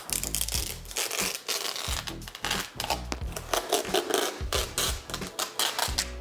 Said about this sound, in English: we can now remove the grip tapes on the side